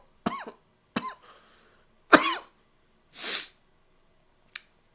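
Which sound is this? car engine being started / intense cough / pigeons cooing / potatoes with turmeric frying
intense cough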